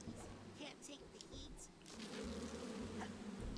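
Angry bees buzz in the video game Psychonauts 2, a steady droning hum from several insects that swells louder partway through, under quiet game sounds.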